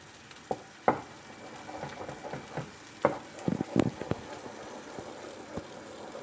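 Melting kaşar cheese and flour for Artvin Şavşat kuymak stirred in a pan: a soft sizzle under scattered scraping taps of the utensil, fairly quiet and close.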